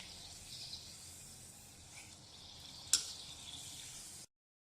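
Sweet potato gharya, sweet fried rounds made with jaggery, fry in hot oil until reddish, giving a steady, fairly quiet sizzle with one sharp clink near the end.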